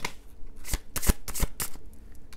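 Tarot cards being shuffled by hand, several quick riffling bursts in a loose rhythm, close and fairly loud, with no speech.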